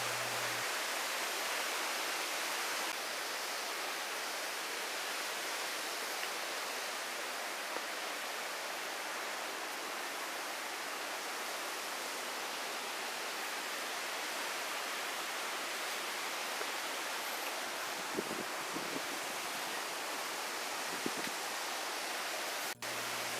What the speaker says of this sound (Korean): 귀로는 자연의 물소리만 들으며 가겠습니다